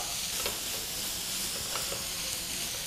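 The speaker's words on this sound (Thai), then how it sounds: "หลังจากนั้นนะครับเราก็ใส่เนื้อหมูบดลงไปครับ" Minced pork and carrot stir-fry in a hot pan, a steady broadband sizzle with scraping stir strokes at intervals, close and continuous with no voices.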